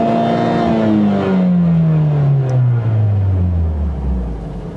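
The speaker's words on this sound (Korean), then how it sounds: "회전수를 올려보면은 소리가 확 커지긴 하는데" A parked Mercedes-AMG CLA 45 S engine revved up, loud and close, with a deep throaty exhaust note that rises and then sinks back down in a long sweep, no talking.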